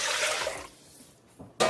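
A brief splash of water pouring into a cooking pot of borscht with millet, fading to quiet, then a short bright burst of liquid at the end.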